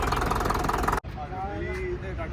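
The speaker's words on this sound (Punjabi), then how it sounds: "ਆਵਾਜ਼ ਸੁਣੋ ਬਾਈ ਟਰੈਕਟਰ ਦੀ ਕਿਆ ਸੋਹਣੀ ਆ" A heavy tractor engine rumbles loudly for about a second, then cuts off sharply; a voice follows over a lower, steady engine hum.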